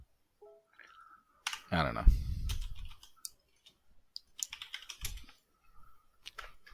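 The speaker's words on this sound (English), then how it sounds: "and then he started typing" Computer keyboard typing comes as quick, light clicking bursts near the start and end, close by, while people talk over and between the keystrokes.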